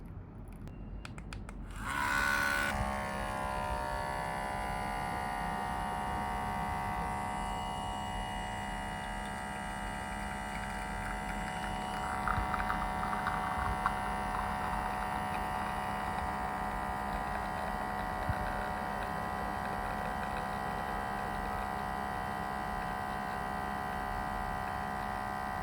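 An Outin Nano portable heat-and-brew espresso maker pulls a shot of espresso. After a brief clatter at the start, its pump settles into a steady, close electric hum with buzzing overtones that runs unbroken to the end.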